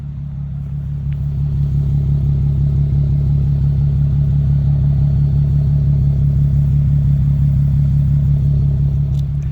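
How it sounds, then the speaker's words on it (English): A Nissan 370Z with a Nameless Performance exhaust idles close by, giving a steady, deep rumble that holds evenly throughout, with no voices over it. "you'll have a nice rumble at idle"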